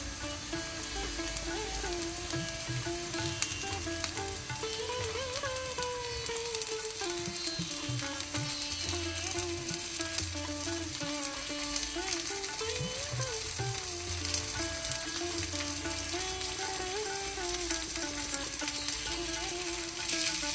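Stuffed brinjal sizzles in a pan over medium heat, a steady, soft frying hiss with light crackle running the whole time beneath a sustained melodic tone.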